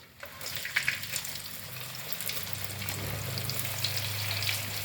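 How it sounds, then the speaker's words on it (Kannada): Bitter gourd chips frying in hot oil, a steady close sizzle that builds and holds throughout with light crackle, no voices. "ಈಗ ನೋಡಿ ಸ್ವಲ್ಪ ಎಣ್ಣೆಗೆ ಹಾಕ್ತಾ ಇದ್ದೀನಿ ನಾನು"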